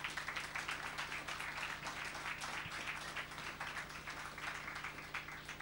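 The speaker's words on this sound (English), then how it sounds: "I would like you to give them a big applaud" An audience applauds the speakers at the end of a two-day panel discussion event, steady distant clapping from many hands held under a low hum, fairly faint throughout.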